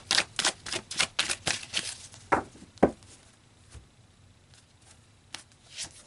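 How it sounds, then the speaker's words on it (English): Tarot cards are shuffled and pulled from a deck, with a rapid run of crisp riffling slaps followed by a few sparse flicks and taps, close and with no talk. "So let's pull some more cards here."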